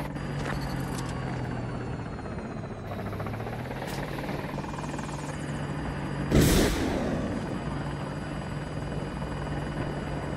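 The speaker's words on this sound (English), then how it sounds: "Did you try the attack helicopter?" An attack helicopter in the Battlefield 2042 video game drones close with a steady rotor hum, its pitch shifting slightly partway through, and a sharp burst like gunfire or an explosion cuts in briefly near the middle.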